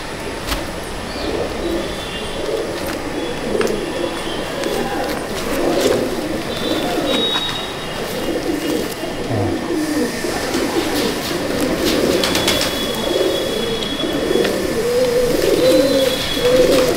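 Madrasi pigeons in a loft keep up a continuous overlapping chorus of low cooing, loud and close, with occasional faint chirps and distant mechanical tones behind.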